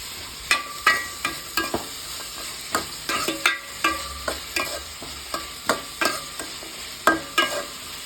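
Onion, green chili, garlic and ginger sauté in a pan with a soft background sizzle, while a spoon scrapes and stirs in repeated sharp strokes at an irregular, steady pace.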